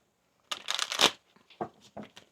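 Tarot cards being shuffled by hand during a reading, giving a quick burst of riffling and snapping followed by a few softer, separate card slides and taps, close and fairly quiet.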